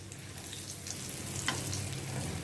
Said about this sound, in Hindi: गोल्डन ब्राउन होने तक इनको मैं फ्राई करूँगी।